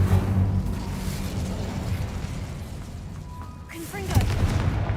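Incendio fire spell cast in Hogwarts Legacy, a roaring whoosh of flame with booming low rumble at the start and a second burst near the end.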